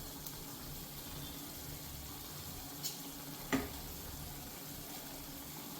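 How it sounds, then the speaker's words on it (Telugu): Tomatoes with tamarind simmer in a pan, giving a faint, steady bubbling sizzle with a couple of soft knocks and no voices. "టమాటాలు చక్కగా మగ్గుతున్నాయి"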